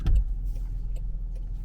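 Land Rover climbing a relatively steep driveway: a steady low engine and road rumble runs throughout, with a slightly louder thump at the start and faint mechanical clicks above it.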